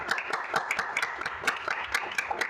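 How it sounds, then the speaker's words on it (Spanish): A small audience gives guests a round of applause on a talk show about literature, scattered moderate claps in an uneven rhythm throughout. "Un fuerte aplauso para ellos."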